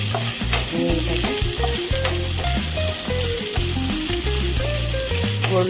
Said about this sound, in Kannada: ಗೋಲ್ಡ್ ಕಲರ್ ಬರೋವರೆಗೂ, ಲೈಟ್ ಬ್ರೌನ್ ಬರೋವರೆಗೂ ಹುರ್ಕೋಬೇಕಾಗುತ್ತೆ